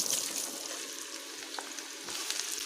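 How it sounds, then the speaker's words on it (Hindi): Mushrooms sizzle and fry steadily in a hot pan with whole spices for a wazwan-style mushroom masala, a continuous soft crackling hiss with a few light stirring scrapes. "और अब मशरूम्स डालेंगे इसमें।"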